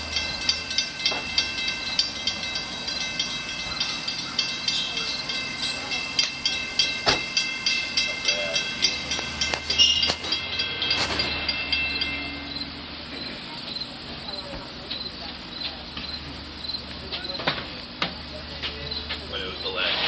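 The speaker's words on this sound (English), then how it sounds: "This is the 10:05 a.m. weekend off-peak Speonk to Babylon train" A Long Island Rail Road weekend off-peak train at Speonk station, a steady rolling rumble with rhythmic clatter held throughout, under a constant high insect-like chirring and a brief hiss near the middle.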